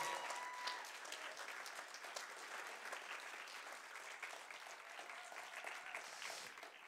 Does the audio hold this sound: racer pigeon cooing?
no